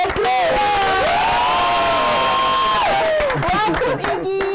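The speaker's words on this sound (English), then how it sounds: "Give Iggy a round of applause" Lively audience cheering and clapping at a student webinar, loud whoops and shouts mixed with applause, with a sustained melodic tone running through the middle.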